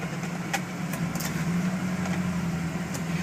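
Cabin sound of a 2004 Ford Excursion diesel 4x4 as it drives: a steady low engine drone with a sustained hum, plus a few faint clicks and rattles, close and constant with no talking.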